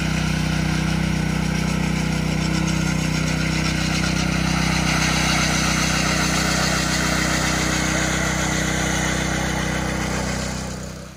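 Machine polishing a concrete slab for a metal building the day after the pour, its steady motor drone running loud and close without pause, then easing off at the very end.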